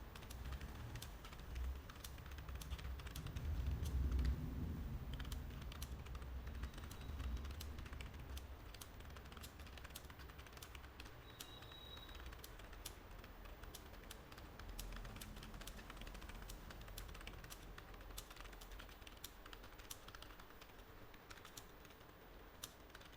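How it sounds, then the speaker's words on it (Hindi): Fast typing on a computer keyboard for a Hindi and English typing test, with rapid, continuous close clicks of keys pattering in a steady stream over a low background hum. "देखिए किस प्रकार से टाइप हो रहा है।"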